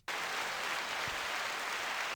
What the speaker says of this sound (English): I think that's the applause button